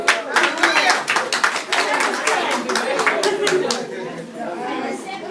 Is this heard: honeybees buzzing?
no